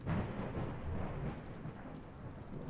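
Thunder rumbles low and long in a video game while steady rain hisses over it, a dense continuous storm with no voices.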